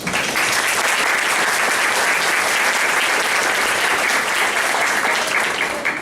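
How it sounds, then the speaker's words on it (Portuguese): Audience applause at a simulated jury trial held by Univale law students, a dense, steady wash of many hands clapping close by and loud, sustained without a break. "Uma salva de palmas."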